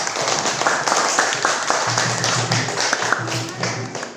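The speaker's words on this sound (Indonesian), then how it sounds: "tepuk tangan untuk Revi." Applause in a primary school classroom during a lesson, a short burst of many small hands clapping quickly and unevenly, fairly close, with a little chatter from the pupils under it.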